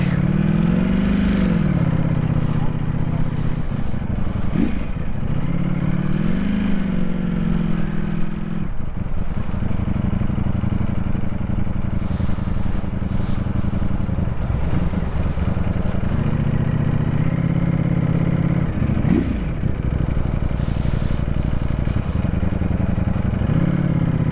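Ducati motorcycle engines, including a Multistrada Pikes Peak, rumble at a supercar meet, a continuous loud idle with occasional revs and clatter over about twenty seconds.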